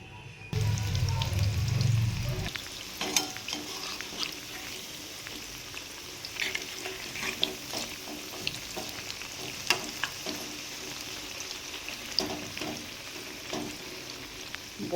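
Drumstick flower fritters go into hot oil and fry. A low thump as the batter drops is followed by steady crackling sizzle with scattered pops and stirring clicks, close and moderately quiet.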